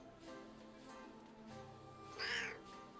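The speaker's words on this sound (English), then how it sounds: "Oh, the meow. The meow." A cat meows once in the train video game A Bumpy Ride, a short, rising and falling cry near the end, heard over a soft, steady, tonal game soundtrack.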